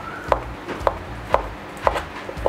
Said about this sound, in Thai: ตอนนี้พี่กำลังหั่นหมูยอ